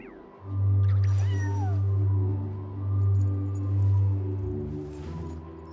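A cat meows and caterwauls in a fantasy video game, the short calls running back to back over a steady low musical drone, close and fairly loud with no talking.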